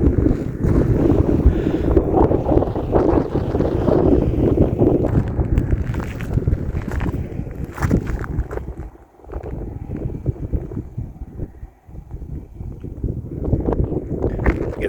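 Strong wind roars over a dry lake bed during a snowstorm, buffeting the microphone in loud, continuous gusts that dip briefly twice before surging back.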